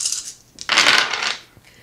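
Dice tumbling and clattering across a table during a German session of the tabletop dungeon-crawler Super Dungeon Explore, a loud rattling burst after lighter clicks.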